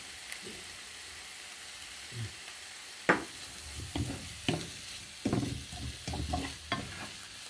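Eggs and vegetables cooking in a pan in a Cypriot dish, with soft sizzling under intermittent stirring and scraping clatters of a utensil, close and moderately loud.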